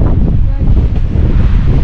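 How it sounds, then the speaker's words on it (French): Strong wind buffeting the microphone at a scenic lookout over a bridge near Col de Plein Voir and Lac de Sainte-Croix, a loud, continuous low rumble with gusts throughout and no talking. "il y a pas mal de vent par contre"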